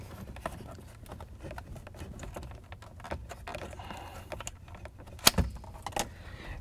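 A 1994-98 Mustang instrument cluster's electrical connector is unplugged, with scattered small plastic clicks, rattles and handling noises up close, ending in a sharp snap near the end.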